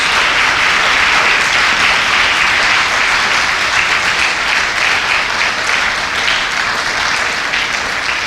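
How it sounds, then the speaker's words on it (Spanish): A church congregation breaks into loud, dense applause in honour of God during a sermon, sustained clapping from many hands that holds steady and close throughout. "¿Cuántos le pueden dar un aplauso de honra a nuestro Dios?"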